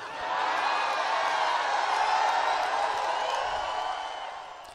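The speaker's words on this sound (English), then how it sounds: "Listen to that cheering." A political rally crowd cheering and whooping in a continuous roar, dense and distant, swelling then fading slightly toward the end.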